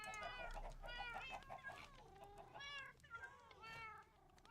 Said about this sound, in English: The cats, man, they are screaming.